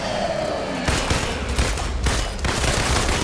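Rapid gunfire from a sci-fi action game, an Iron Man space mission in Avengers, rattles in loud, close bursts that overlap almost without pause.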